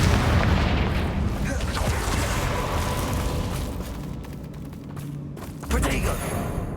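Booming blast from the Confringo spell in Hogwarts Legacy, a dense sustained roar of explosive noise that eases off before a second burst near the end.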